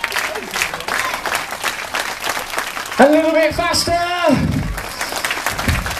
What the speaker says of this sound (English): And we go clap, clap, clap, all together in time.